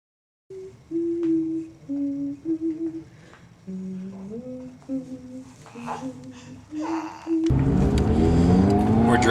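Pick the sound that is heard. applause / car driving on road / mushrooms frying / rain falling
car driving on road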